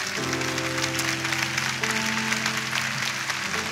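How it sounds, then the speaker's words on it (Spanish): Audience applause at a gathering, a dense, steady clatter of clapping that runs the whole time at an even loudness, with sustained tonal notes, like music or a held chord, underneath. "Damos un aplauso en honra"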